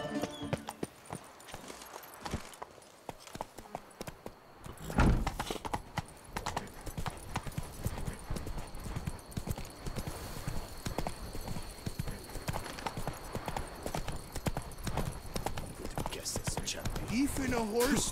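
Horse hooves clip-clop at a steady gallop in The Witcher video game, the rhythmic beats starting after a quiet opening and then running on continuously, with a snort or whinny now and then and speech mixed in.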